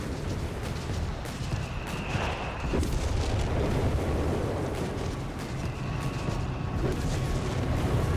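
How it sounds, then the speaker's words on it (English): A Vespa 105mm self-propelled howitzer on a Panzer II chassis fires in the strategy game Company of Heroes 3, its booms lost in a dense, continuous roar of battle noise that holds steady throughout. "Vespa on the scene. Mounting 105mm howitzer on the Panzer II chassis"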